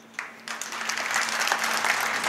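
Audience clapping at a Nationalist Congress Party rally ahead of panchayat samiti and zilla parishad elections, swelling after a short start into steady, dense applause that continues throughout.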